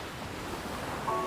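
Rough sea surf off a small rocky Korean island, a dense continuous wash of wave noise mixed with wind rumble, steady and fairly loud throughout with no voices.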